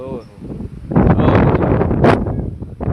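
Gusty cyclone wind in a village buffets the microphone in strong, rough bursts after a quieter opening, with a voice speaking briefly at the start.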